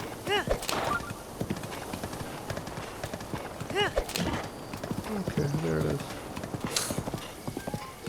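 Horse hooves clip-clop steadily in the video game The Legend of Zelda: Breath of the Wild, played in Master Mode with bokoblins riding horses, mixed with occasional whinnies and someone talking over the action.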